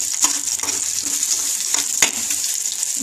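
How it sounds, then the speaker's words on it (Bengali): Curry frying in a pan for a Bengali non-veg Sunday lunch, a steady close sizzle with a few sharp clicks and scrapes of stirring over about three seconds, no voices. "লাল লাল করে ভাজতে হবে"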